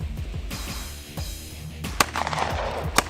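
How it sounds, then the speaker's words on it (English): SIG pistol firing at a Swiss sniper competition: two sharp, loud shots about a second apart rise above a steady, noisy background. "He was shooting a SIG pistol."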